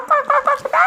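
A hen clucks in a quick run of four or five loud, close, nasal calls in an even rhythm, heard alone without talk.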